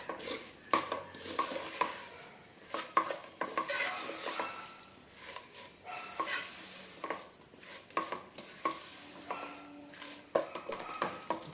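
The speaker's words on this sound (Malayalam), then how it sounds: "നാരങ്ങ ചേർത്തതിന് ശേഷം നമുക്ക് നന്നായിട്ട് മിക്സ് ചെയ്ത് കൊടുക്കാം." A spoon stirs lemon pickle mixture in a pan, scraping and clinking against the metal in an irregular rhythm with soft sizzling underneath, close and moderately loud with no talking.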